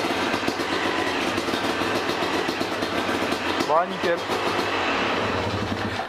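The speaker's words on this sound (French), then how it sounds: "La moto en première, bon, elle est froide, c'est pour ça que le ralenti il est haut." Cold Yamaha YZ 250 motorcycle idling high in first gear, a steady, fast buzzing engine beat close by, continuous throughout with someone speaking briefly over it.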